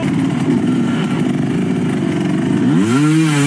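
Enduro motorcycle engine working hard on a steep hill climb at the Erzberg Rodeo hard enduro race, a loud steady droning buzz that swells into a sharp rising rev near the end.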